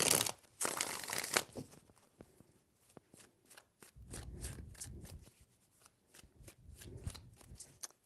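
Tarot cards are shuffled by hand in several crisp, papery bursts, a loud riffle at the start followed by softer, rhythmic flicks and shuffles, close and alone without talk.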